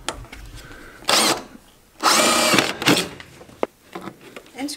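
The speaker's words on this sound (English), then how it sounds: "Pre-drill." A power drill pre-drills holes for screws while fitting heavy-duty storage compartment doors on a skoolie bus underbody, with two loud bursts of whirring, a longer one and then a shorter one, separated by quieter handling noise.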